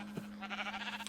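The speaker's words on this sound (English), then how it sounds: "you can see I have a lot of sheep in here" Blocky Minecraft sheep in a farm building bleat in a brief, faint burst, with low game ambience and a steady hum around it.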